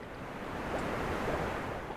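Ocean waves in a Minecraft game mod called Gonebutnotforgotten.jar wash in a steady, soft roar of surf with a faint wind-like hiss, continuous and fairly quiet.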